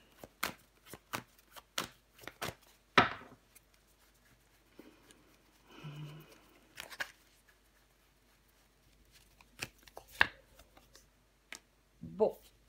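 Tarot cards laid down over other cards on a table make a few soft, close slaps and slides, spaced apart with quiet gaps between them.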